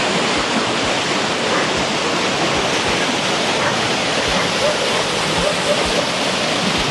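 A Jamaican river rushes in a constant, loud, broadband wash of flowing water, with no pause over several seconds.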